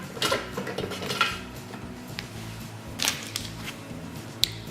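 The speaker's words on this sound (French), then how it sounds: "il faudra racler les parois du bol pour faire descendre le chocolat" A spatula scraping the sides of a Thermomix bowl to push chocolate down for brownies, heard as several close, irregular scrapes and light clinks with quiet gaps between them.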